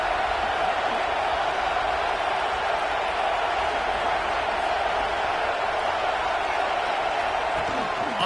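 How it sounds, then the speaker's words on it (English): A packed American football stadium crowd roars steadily and loudly throughout a third-down red-zone play in a Blue Devils game, a dense unbroken wall of cheering with an announcer talking over it. "this crowd is at fever pitch"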